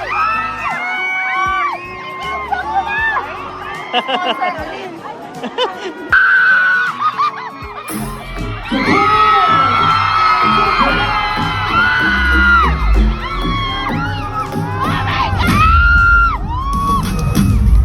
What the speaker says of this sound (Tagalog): Grabe guys, nakakahawa ng energy yung sigawan ng mga tao dito.